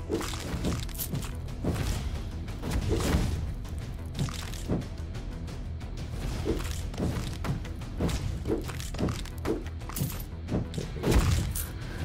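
Repeated heavy booming impacts from explosions in the video game Death Must Die, loud and dense, with thuds and cracks rolling over a constant rumbling backdrop.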